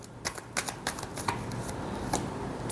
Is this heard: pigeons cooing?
no